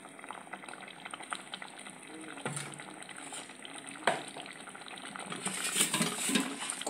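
Sambar, a South Indian lentil stew, coming to a boil in a pot, a soft bubbling and hissing simmer that builds louder toward the end, with a faint clink or two.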